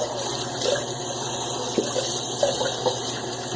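Water pours steadily over a head being wet down between passes of a shave, a close continuous splashing gush with small spatters, no voices.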